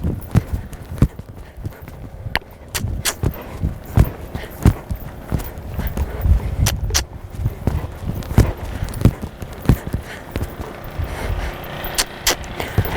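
A horse canters during dressage training, its hoofbeats landing in a close, regular three-beat rhythm with sharp thuds throughout and a soft background hum of the arena.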